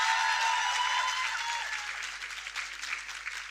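Conference audience applause, brisk clapping from a hall that starts full with a faint tonal whine underneath and gradually thins and softens toward the end.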